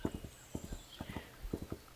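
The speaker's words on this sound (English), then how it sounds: "as you got on your horse and began riding back" Horse hooves clip-clop in a quick, even rhythm as a rider travels, the sharp knocks repeating close by at moderate volume over a quiet background.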